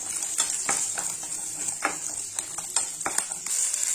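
Ginger and shallots sauté in a hot pan, with a continuous sizzle and repeated scraping strokes of a spoon stirring through them at an uneven rhythm, close and fairly loud, with no talking.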